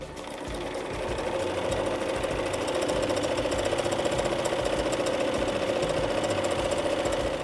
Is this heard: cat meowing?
no